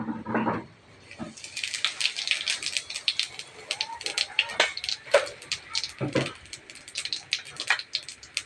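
Cumin seeds sizzling in hot oil for tempering in a Bengali rohu fish and ridge gourd curry: a dense, steady crackle of tiny pops and hisses fills the pan close by after a brief clatter, with occasional louder spits.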